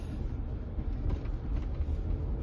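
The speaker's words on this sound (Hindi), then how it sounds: "तो अभी मैं फोर व्हीलर चला रहा हूँ।" Steady low rumble of a four-wheeler's engine and road noise from inside the cabin while driving in Powai, continuous and moderately loud with no talking.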